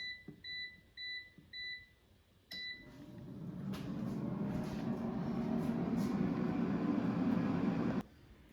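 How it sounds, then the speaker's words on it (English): An air fryer chimes a series of short beeps, then its fan starts with a click and runs as a steady, even whir while a Trader Joe's Bambino pizza cooks inside, ending with an abrupt cutoff. "Now the air fryer is done cooking"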